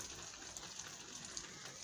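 Water is poured and spread to wash a home courtyard, a faint, steady splashing hiss that runs throughout with no voices over it.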